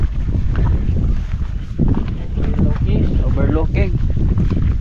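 Strong wind buffeting across a cold, open hillside, a loud continuous rumbling roar of wind noise with people talking through it.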